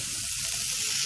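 Okra fries with masala in a pan, giving a brief, steady close sizzle with a soft hissing texture throughout.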